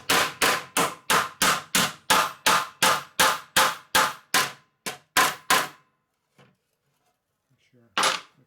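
Hammer blows on a metal motor part from a 1961 Harley-Davidson FL 74ci panhead, struck to flatten it out: about fifteen sharp, ringing strikes in a steady rhythm, then a pause and one more near, loud hit.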